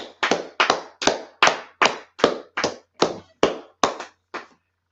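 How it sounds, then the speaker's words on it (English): Eleven separate sharp hand claps in a slow, even rhythm, each loud and close, like one pair of hands or a few people clapping in unison for a class at a salute gathering, with no talk. "So let's clap it up for class, man."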